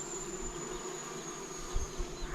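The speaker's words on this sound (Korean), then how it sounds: "벌들이 지금 난리를 치고 있습니다" Bees swarm around a natural honey hive in a remote Thai village, producing a continuous, fairly quiet buzzing drone with a few louder passes nearby.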